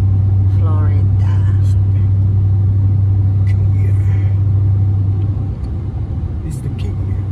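A car heading south on Highway 1 toward Key West, Florida, gives a loud, steady low engine and road drone that eases slightly near the end, with faint voices briefly audible over it.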